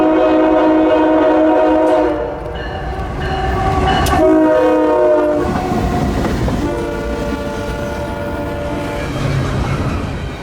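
A heavy CSX intermodal container freight train rumbles past up close, horn blaring in long sustained blasts over the steady roll and clatter of the cars.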